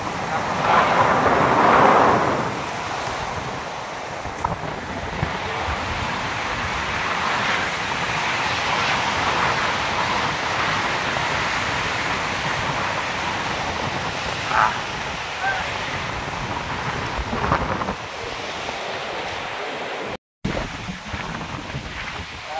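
Strong wind roars steadily across the microphone for a long stretch, loud and rumbling, with brief muffled voices and a short dropout near the end.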